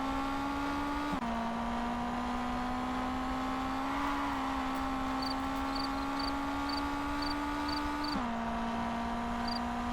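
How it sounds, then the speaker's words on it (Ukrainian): Simulated car engine in the Street Legal Racing: Redline racing game, held at high revs with a steady tonal whine that shifts pitch slightly at gear changes, constant and prominent with faint electronic beeps. "вже на високих обертах двигун тримаю."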